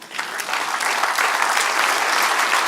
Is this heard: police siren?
no